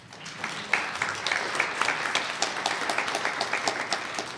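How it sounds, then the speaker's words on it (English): Audience applause at a regional spelling bee: steady crowd clapping with sharp individual claps popping out, sustained and moderately loud throughout, no talking. "You can applaud."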